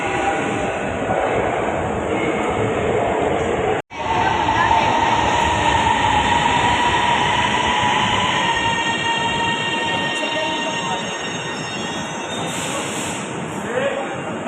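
An Orange Line metro train runs at a Lahore station with a loud, continuous rumble and high-pitched wheel squeal. The sound cuts out sharply for a moment, then returns and slowly fades, with people talking over it.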